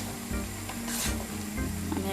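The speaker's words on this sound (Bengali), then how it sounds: "আমি এখন আর একবার নাড়া দিয়ে দিচ্ছি।" Mixed vegetables stirred in a hot frying pan for a Chinese restaurant-style dish, a loud close sizzle with a brief scraping stir partway through and no talking.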